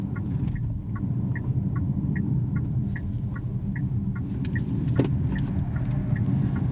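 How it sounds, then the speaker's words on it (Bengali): A Changan CS75 Pro 2026 in sport mode, driven hard through a curve: steady, loud engine and road rumble from inside the cabin, with a string of faint, evenly spaced chirps running through it. "হ্যাঁ, গাড়ি স্লাইড করতেছে"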